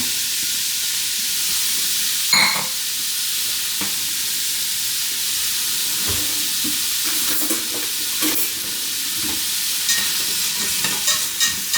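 A single onion sizzles and fries steadily in a hot pan, a continuous close hiss with occasional stirring scrapes and sputters throughout.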